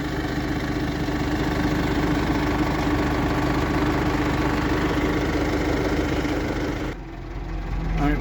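A farm tractor idling during fertilizer spreading, a steady low mechanical rumble with a constant drone, close and continuous, dipping briefly near the end before settling again.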